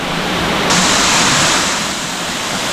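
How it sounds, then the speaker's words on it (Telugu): Katika waterfall, a small but tall fall, roaring as a loud, steady broadband rush of falling water close by, with no voices. "ఇది వాటర్ ఫాల్ చిన్నది కానీ హైట్ ఎక్కువ."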